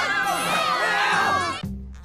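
A cartoon crowd of students cheers and whoops in a classroom vote, a bright wash of overlapping voices that cuts off abruptly, leaving a low lingering tone.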